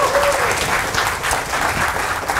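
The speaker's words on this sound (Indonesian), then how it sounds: "Tepuk tangan dulu buat kita semua Bapak Ibu sekalian ya." Seminar audience applauding at a health talk, a close, steady burst of many hands clapping for a couple of seconds with little talk over it.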